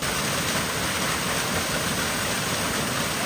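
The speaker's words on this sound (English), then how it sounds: "I didn't know we'd be greeted with a waterfall too, did you?" Waterfall in Banff National Park, Alberta, a dense, steady broadband roar of falling water, loud and close, continuous with no talk.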